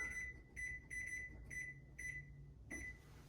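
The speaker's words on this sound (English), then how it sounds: "So we're going to set our timer" A kitchen timer being set for baking a no-sugar pumpkin pie gives a series of short, evenly spaced electronic beeps, close and fairly quiet, with no talking.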